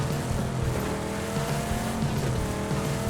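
Game car in PUBG driven by a friend, a steady close engine drone running throughout with hints of tire noise, no talk over it.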